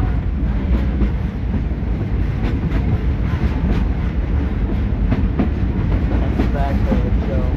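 Silver Dollar City's Frisco Dollar Line train rolls steadily along, a loud continuous rumble of railcars with faint clickety-clack from the wheels throughout.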